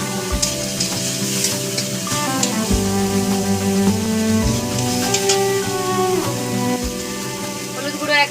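Tomato hits a hot pan with mustard paste for a rohu fish mustard curry, giving a steady, continuous sizzle under background music.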